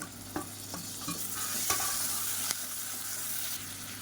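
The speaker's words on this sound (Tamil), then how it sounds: "வெங்காயம் இந்த அளவுக்கு வதங்கினா போதும், ரொம்ப ப்ரௌனாக வதக்கணும்னு அவசியம் இல்லை" Onions sauté in a pan, a close continuous sizzle with repeated spoon scrapes and taps from stirring near the start, and no talking.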